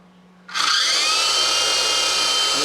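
A Lighthawk Aero RC helicopter's rotor motor spins up abruptly from near silence into a loud, steady high-pitched whine and whir, held close.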